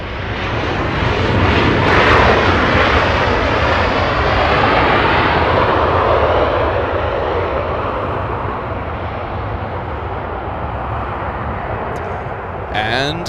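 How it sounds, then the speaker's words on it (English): A Delta jet airliner arrives at Los Angeles International Airport with a loud, sustained engine roar that swells and then slowly fades as it passes close by. "All right, we have an arrival. We have Delta 2737 flying in from the Motor City."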